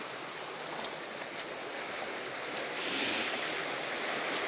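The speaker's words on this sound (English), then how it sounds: "You can see the river that passes through." Maltby Dyke, a small river on a countryside walk near Roche Abbey, flows with a steady, broad rushing wash that holds even and continuous throughout, heard fairly close with no voices.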